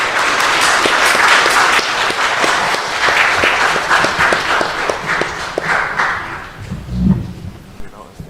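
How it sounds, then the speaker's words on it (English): A conference panel audience claps steadily, a dense sustained round of applause that tapers off toward the end, with a few low thumps. "please join me in welcoming them with a round of applause"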